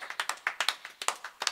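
A small live-studio audience claps for keyboard player Vito, a short burst of sharp, uneven hand claps from a few people nearby.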